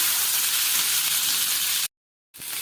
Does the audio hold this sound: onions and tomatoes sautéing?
yes